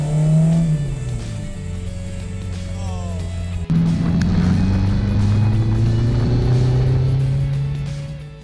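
A 1973 Renault Alpine A110 V85 1300 engine runs loud and close, its pitch rising steadily as it revs, briefly dipping at a gear change before climbing again and fading slightly at the end.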